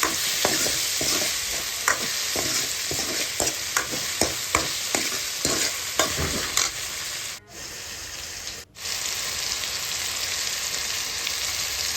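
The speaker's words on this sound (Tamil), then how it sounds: "தக்காளி கூட நம்ம கொஞ்சம் உப்பு சேர்த்துக்கிட்டோம்னா சீக்கிரமாக நம்மளுக்கு தக்காளி வதங்கிடும்" Tomatoes sizzle with salt in a pan for chicken gravy, with loud, close, rhythmic stirring scrapes over a continuous frying hiss, then two brief dips before the sizzle carries on alone.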